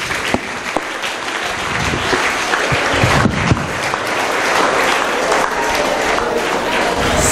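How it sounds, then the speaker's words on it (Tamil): An audience at a student motivation seminar breaks into loud, sustained applause, with dense clapping continuing for about seven seconds. "கைத்தட்டல் ஒன்று கொடுங்க"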